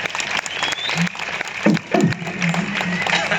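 An audience at a Ramlila stage program in Jalpali claps for the performers, a sustained wash of crowd applause with voices speaking over it.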